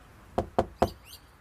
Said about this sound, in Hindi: अगली सुबह पड़ोसियों ने दरवाजा खटखटाया।